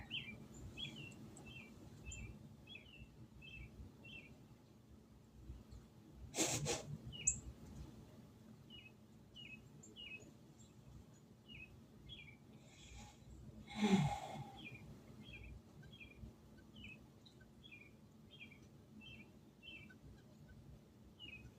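Cardinals and a titmouse repeat short, high chirping calls at a steady pace against a quiet outdoor background, with a couple of brief rustling knocks nearby.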